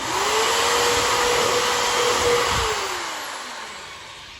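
A drill whines loudly and steadily as it opens up a hole in metal, then its pitch and level slowly fall away as it winds down.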